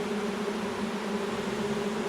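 A swarm of honey bees fans pheromones at the hive entrance during swarm capture, making a steady, dense, close buzzing hum that holds evenly throughout with no voices.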